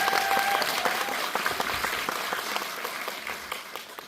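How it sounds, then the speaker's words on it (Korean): An audience at a Wild Thing screening Q&A at CGV Yongsan claps for three guests, a dense sustained burst of applause that eases slightly toward the end. "다시 한번 세 분께 박수"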